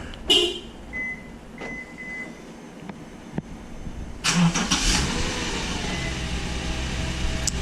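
A 2013-2014 Subaru Outback, idling after a remote start, keeps up a steady low hum at moderate distance, with a couple of brief chirps and thumps early on and a louder broadband rise partway through as the idle settles.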